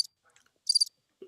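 Crickets chirp in short, faint high bursts against near silence, one brief trill at the start and a stronger cluster in the middle, with a low sound at the very end.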